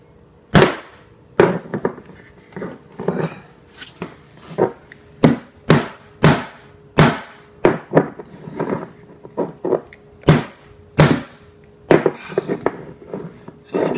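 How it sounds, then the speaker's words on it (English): A stubborn candle lid is struck hard against the floor again and again, giving a long, steady series of loud, sharp knocks roughly once a second, with no voices. "I might have to bang it harder."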